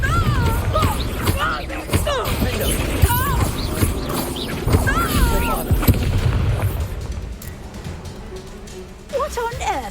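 A Confringo blasting spell in Hogwarts Legacy detonates in heavy booming explosions amid combat noise, while voices shout and talk over the blasts.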